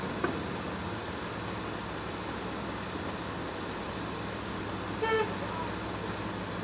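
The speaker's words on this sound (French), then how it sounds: "Eh, klaxonne pas sur moi, je peux rien faire, moi." Car horn toots briefly once amid continuous roadway traffic noise, with a rider on a three-wheeled motorbike nearby; the honk is short and mid-loud against a steady rumble.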